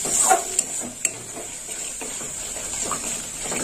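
Soybean curry masala with sour yogurt is stirred in a pan, giving a soft bubbling sizzle with occasional spoon taps and clinks against the metal. It is close and moderately quiet, with no talking.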